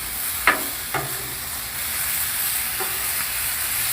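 A sirloin steak flipped onto a hot Blackstone griddle, with a steady loud sizzle and hiss throughout and a couple of sharp scraping clacks from the spatula near the start.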